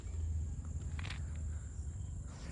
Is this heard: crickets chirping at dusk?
yes